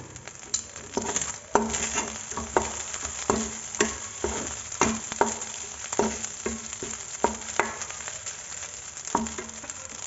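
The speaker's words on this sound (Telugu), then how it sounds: "ఇవన్నీ వేసుకుని బాగా టాస్ చేసుకోవాలండి ఇలా బాగా కలుపుకోవాలి" Gobi manchurian is tossed and mixed with spices in a sizzling pan, with steady frying crackle broken by repeated sharp scrapes and clinks of a spoon against the pan, close and fairly quiet.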